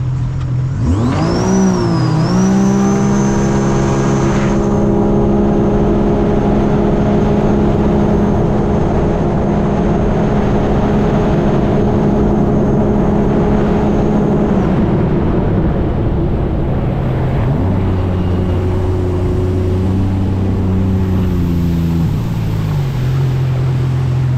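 A Sea-Doo RXT-X jet ski with a Rotax engine, just repaired for an oil pressure sensor leak, roars up through steady sport-mode acceleration, its loud, sustained engine tone holding high before easing back near the end.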